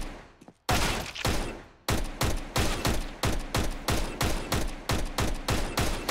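Tec-9 pistol fire in CS:GO: a short first burst, a brief gap, then a long fast run of roughly a dozen sharp, loud, evenly spaced close-up shots, with no voices over it.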